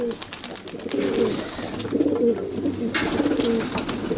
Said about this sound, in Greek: Ωραία τα περιστέρια, φοβερό πρόγραμμα.